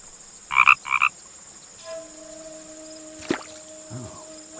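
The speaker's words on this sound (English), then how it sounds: "Is that a frog I hear?" In the video game The Night of the Rabbit, a frog gives two quick, loud croaks near the start, followed by faint tones and a soft splash-like sound.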